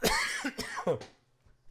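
A couple of sharp, harsh coughs close to the mic, then a quiet pause and a faint short sound near the end.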